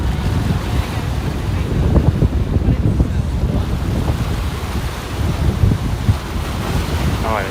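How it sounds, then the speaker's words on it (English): Strong wind buffets the microphone at a pier in Brooklyn, New York, a steady loud roar with gusts and what sounds like waves or surf below it, while faint talk comes through now and then. "Oh, it's super windy."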